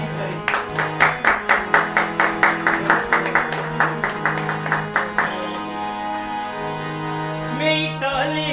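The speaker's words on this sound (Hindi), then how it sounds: "मैं चाहता हूं एक बार तालियों से उसकी तारीफ करें।" A congregation at a Sunday church meeting claps in a steady, even rhythm for about five seconds over sustained musical tones, then the clapping stops and the music carries on alone.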